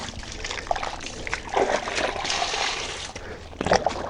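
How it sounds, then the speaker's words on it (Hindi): A washed panel rinsed clean with water from a bucket, splashing and trickling in bursts at close range, with faint talk in the background. "अब मैं इस पैनल को, जो कि ये धुल गया, इसको पानी से साफ़ कर देंगे"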